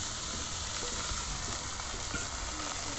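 Fried potatoes go into a pan of well-fried spices, a dense steady sizzle crackling continuously at close range with no voices.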